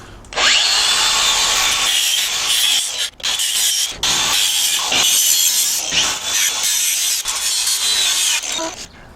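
An old bicycle chain scrapes and rattles as it is pulled out through the frame, a loud, continuous grinding rub with a few brief pauses and no talking.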